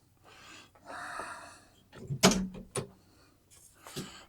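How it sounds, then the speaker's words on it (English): A wagon door is opened with a loud clunk and latch click after a stretch of soft rustling and breathing, followed by a second, smaller knock. "Open this door."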